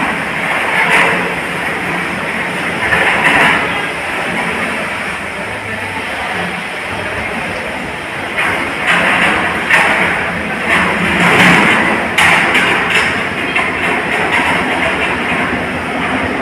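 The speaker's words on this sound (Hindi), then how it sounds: "एक ट्रेन और आ रही है" The Kamakhya–Anand Vihar Terminal Express, hauled by a Ghaziabad WAP-7 electric locomotive, rumbles past loudly at Prayagraj Chheoki Junction, a steady roar with rail clatter throughout.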